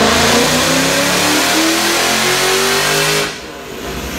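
A Chrysler 300 SRT8 with a 392 engine, intake and exhaust mods, revs hard on a dyno, its loud close roar climbing steadily in pitch before dropping off abruptly near the end.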